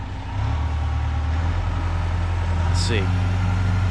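An old Lull telehandler idles nearby with a steady, loud, low diesel drone, while a person briefly speaks over it.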